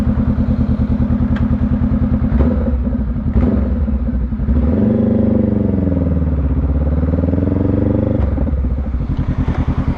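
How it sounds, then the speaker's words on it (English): A Honda Rebel 500 motorcycle with a Two Brothers Racing exhaust, heard up close as a loud, deep, throbbing exhaust note that rises and falls as the rider revs and shifts while riding. "I love the way that this Two Brothers Racing exhaust sounds."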